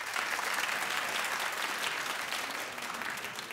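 A television talk show studio audience claps in a dense, continuous wash of applause that holds steady throughout, heard from within the crowd.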